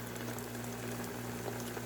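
Fish shallow-fries under a lid in a covered pan, giving a faint, even bubbling crackle over a low steady hum throughout the short stretch.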